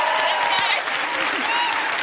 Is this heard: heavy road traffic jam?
no